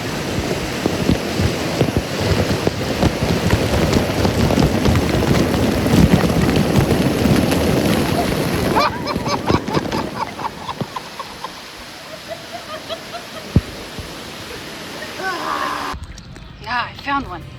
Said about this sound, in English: I feel like lazy rivers aren't lazy anymore because they always have waterfalls.